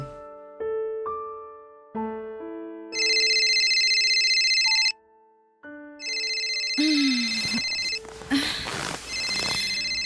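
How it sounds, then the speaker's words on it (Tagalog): A telephone rings with a melodic electronic ringtone, a series of stepped tones that repeats with short pauses and grows busier toward the end, loud and close with no talk. "laking gulat ko nang si Nando ang kusang tumawag sa akin"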